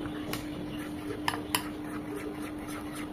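A spoon or whisk taps and scrapes faintly against a bowl while prawn fry batter is mixed smoothly with a spoonful of soybean oil, a few light clinks over a quiet kitchen background.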